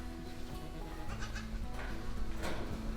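Sheep bleat in a lambing shed full of ewes and young lambs, several overlapping calls close by over a steady hum of indoor background noise.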